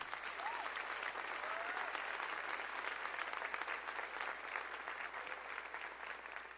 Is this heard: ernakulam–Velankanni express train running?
no